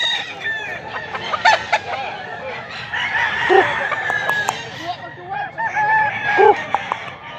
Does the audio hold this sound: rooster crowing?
yes